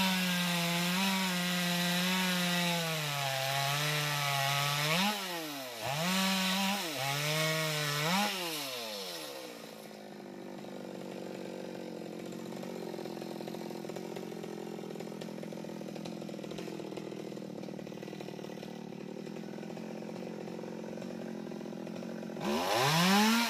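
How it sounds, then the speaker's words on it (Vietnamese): A chainsaw cuts through a branch of a jackfruit tree, its engine droning loud and steady with pitch bending as the chain bites, then dropping to a lower idle before revving up again at the end. "chú tụt xuống đứng nhánh dưới để cưa tiếp cái nhánh đó"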